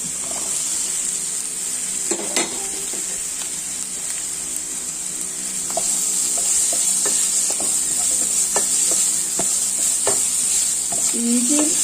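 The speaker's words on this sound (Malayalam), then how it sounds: "വെളുത്തുള്ളി സവാള എല്ലാം നന്നായിട്ട് വഴറ്റണം" Garlic and onions sautéing in a pan for a Kuttanadan duck roast, a steady close sizzle with scraping stirs and clinks of a spoon throughout, no talking.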